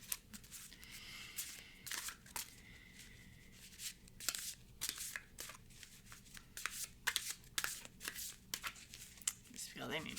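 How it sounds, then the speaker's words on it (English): Crisp riffling bursts of thin Pulp Tarot cards being shuffled, repeated again and again at close range, with soft handling noises between them. "So they're thin enough you could do a bridge shuffle."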